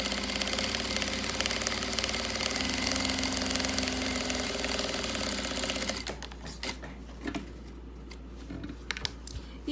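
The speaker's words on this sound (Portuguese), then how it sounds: "faço um pé de máquina sobre o viés novamente" Sewing machine stitching along bias binding: a loud, steady mechanical whir runs for about six seconds, then stops, leaving faint scattered handling clicks.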